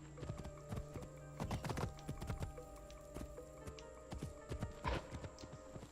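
Horse hooves clip-clopping on ground in Assassin's Creed Shadows, a steady walking rhythm of distinct near hoof strikes with a brief whinny-like note, no talking over it.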